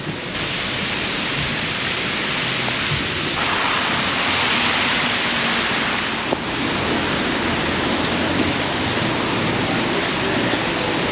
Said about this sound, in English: We can't venture too far because it is still raining.